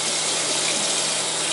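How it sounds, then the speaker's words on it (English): Tap water runs steadily while a glass is rinsed in a sink, a continuous close, loud rushing gush with no break and no voices. "So this is how we basically wash the glass. You just rinse it with the water."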